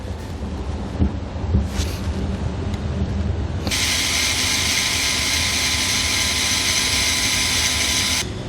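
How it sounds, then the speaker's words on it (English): A few short knocks and buzzes give way to a loud, continuous high-pitched drill whine boring a pilot hole while installing an underbed gooseneck trailer hitch, running steadily for several seconds before cutting off. "I'm going to start by drilling a pilot hole first."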